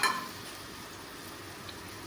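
Oil sizzling in a pan while dhokla is being made at home, a steady close hiss with a brief louder crackle at the start and no talk over it.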